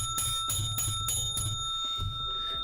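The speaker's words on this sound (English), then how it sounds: "ring the bell" A bell rings on a basketball play-by-play livestream, five bright rapid metallic strikes in quick succession, each with a lingering ring, then fading out with faint background sounds.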